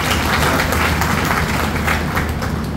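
Audience applause at a formal event, a dense continuous wash of many hands clapping, loud and steady throughout with no speech over it.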